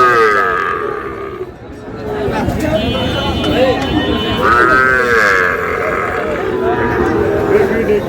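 At a Dinajpur cattle market, a Sahiwal bull gives deep, drawn-out lows and grunts close by, while people talk loudly around it.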